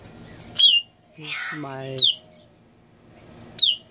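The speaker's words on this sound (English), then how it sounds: "hill mynah or Java mynahs. They are breeding in here." Hill mynahs (Java mynahs) at a nest during breeding while feeding a chick: three sharp, loud whistled calls at regular intervals, with a lower squawking cry between them and a brief voice speaking.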